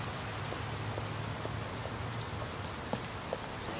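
Heavy rain downpour with steady dense hiss of drops filling the whole stretch, a few louder individual drips standing out, no voices.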